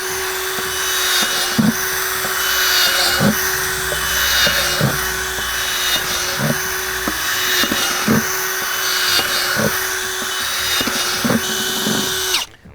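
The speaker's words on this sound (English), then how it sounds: "we're going to drill about 6 to 8 5/16 holes into the bottom of our bin" A power drill boring 5/16-inch holes into the bottom of a plastic 5-gallon bin, a loud steady whine running nonstop with a regular pattern of brief louder bites as each hole cuts through, close up.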